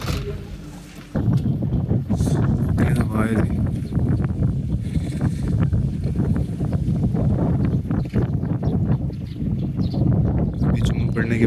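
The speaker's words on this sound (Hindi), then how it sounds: "बहुत तेज हवा है, बहुत अच्छा मौसम है यहाँ पे।" Strong wind blowing outdoors at a university campus, gusty buffeting and low roaring rushes hitting the microphone steadily for about ten seconds, loud and close, with someone talking through it.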